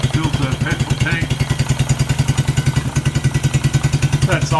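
A Suzuki Quad Runner engine idles with a loud, close, even chuffing pulse that repeats several times a second, over a low droning hum, and a voice is heard briefly over it.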